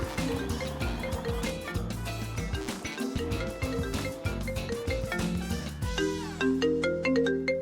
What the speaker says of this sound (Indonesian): Stop dulu, ada telepon.